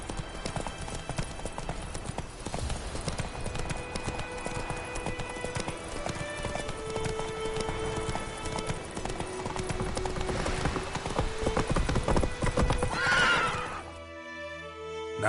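Roach the horse clip-clops along at a steady trotting rhythm with a whinnying neigh near the end in The Witcher video game, over a dense game soundscape.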